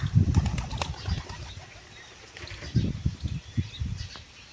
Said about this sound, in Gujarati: આ કોકનું નવું કબૂતર આવ્યું છે બીજાનો છે આપણું નથી